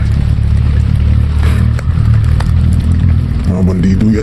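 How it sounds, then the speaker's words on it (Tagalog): Many motorcycles passing by on a rural road, a loud continuous rumble of engines with revving and clatter, heard close and sustained while people talk over it. "Maraming motor na dumaan."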